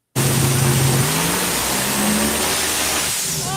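A car engine revving hard during a dynamometer pull making 623 horsepower, a loud sustained roar that climbs in pitch, heard alone without voices.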